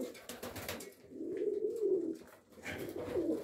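Breeding tumbler pigeons cooing at close range, a soft low rolling coo rising and falling in two or three drawn-out phrases with faint rustling around them.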